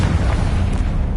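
A Confringo spell explosion in the Hogwarts Legacy video game, a loud, sustained, rumbling boom with a deep, heavy low end that rolls on steadily without fading.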